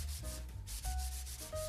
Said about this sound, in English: I gave the cabinet a light sanding with 220 grit before applying a second coat of the Zinsser sealant.